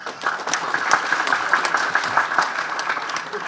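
Audience applause at a Tamil film audio launch, a steady dense clapping from a large crowd that stays fairly loud and close throughout, with no talk over it.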